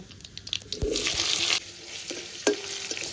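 Potatoes frying in oil with panch phoron and dried chillies for a mixed vegetable curry, giving a steady close sizzle with scraping stirs and a few sharp clinks, without talk.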